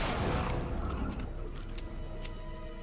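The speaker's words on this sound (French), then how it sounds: "On me tire dans les pattes" Gunfire in Alan Wake 2 rattles as a dense, continuous fusillade that is loudest at the start and then holds steady at a slightly lower level for the rest of the stretch.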